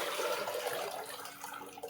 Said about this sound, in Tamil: தண்ணி மாத்துறாரு அப்பா